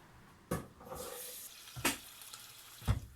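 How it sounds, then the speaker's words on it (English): Rice being washed in water in a bowl or sink, with a few sharp splashy bursts of water and rice swishing, close and fairly quiet, no talking. "We always wash the rice at the beginning."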